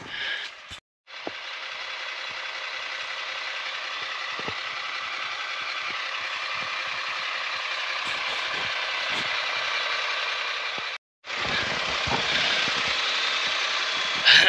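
A tractor engine runs at a steady drone nearby, briefly cutting out twice, with faint clicks and rattles over the hum.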